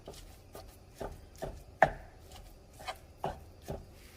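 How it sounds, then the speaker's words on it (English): Ground beef seasoned with cracked black pepper being broken apart in a pan, heard as about ten soft spatula taps and scrapes in a loose, steady rhythm. One knock stands out louder, close by, with no voices. "now I'm just going to break apart and start cooking my ground beef."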